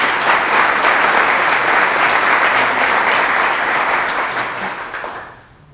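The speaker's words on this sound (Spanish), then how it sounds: "Les pido un fuerte aplauso para Gisela, por favor." Strong audience applause for Gisela Orjeda at a science and technology popularization program launch in Peru, a dense, loud roar of clapping that holds steady for several seconds before fading out.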